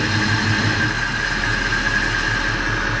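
A Chevy C10 V8 with a new Edelbrock AVS2 carburetor idles steadily in gear at low RPM, a close, even engine drone with a thin high whine running through it.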